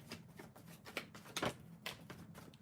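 Tarot cards being shuffled by hand during a live reading, heard as faint, soft, papery riffles and flicks in quick bursts with nothing else in the background.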